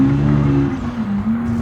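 Engine of the old school Pessima car in the BeamNG driving game, a loud sustained droning hum that dips and shifts in pitch as it drives, close and steady with no talk.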